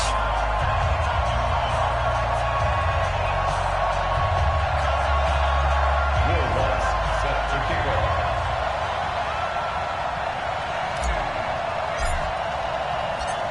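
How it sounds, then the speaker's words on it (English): Simulated stadium crowd in an NFL video game, Saints versus Giants, a continuous broad roar of cheering and crowd noise that stays loud throughout, with a commentator's voice talking over it. "This crowd is ready as their guys get set to match up"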